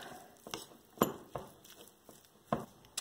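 A spoon clinks and taps in a bowl while ricotta ravioli filling with roasted garlic, basil and dried porcini powder is stirred, giving a scattered rhythm of light knocks and scrapes, close and fairly quiet.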